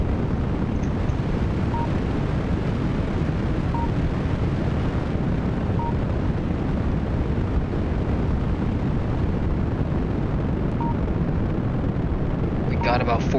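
Rocket engine roaring at increased throttle in a video game launch, a steady, loud, broadband rumble that holds constant throughout with a faint voice under it and a brief crackle near the end.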